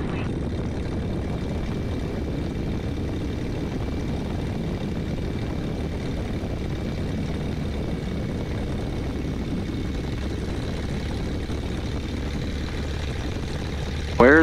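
Light propeller airplane engine at full power during a night takeoff, with the mixture full rich and the prop set full forward. A steady, loud, droning roar holds without pause throughout and fills the whole stretch.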